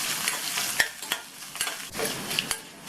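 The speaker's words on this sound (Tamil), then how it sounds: "இந்த இஞ்சியும் எண்ணெயிலேயே நல்லா வதங்கணும்." Finely chopped peeled ginger sautéing in hot oil for a chutney, a steady close sizzle with a few sharp clicks and scrapes of stirring, no voices.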